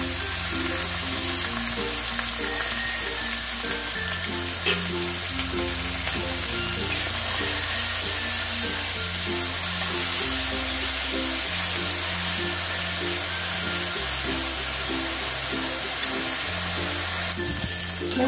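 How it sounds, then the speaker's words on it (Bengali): Chopped onions frying in hot oil in a pan, a steady close sizzle running throughout with occasional stirring scrapes. "এবারে আমি পেঁয়াজ কুচি দিয়ে দেবো। পেঁয়াজটাকে একটু লাল লাল করে ভেজে নেব।"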